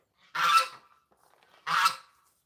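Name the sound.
goose honking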